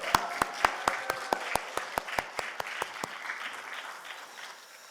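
Rhythmic clapping in sharp, evenly spaced beats that fade out, over a low murmur of a church congregation at a prayer service; no clear cheering.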